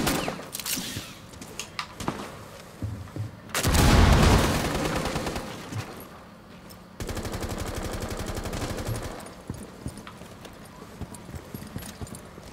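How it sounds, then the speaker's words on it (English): Rainbow Six Siege gunfire comes through a window: rapid automatic bursts hammer in loud, dense runs, one heavy blast-like stretch and another long steady rattle, with sparse sharp clicks and thumps between. "Somebody shooting through that window."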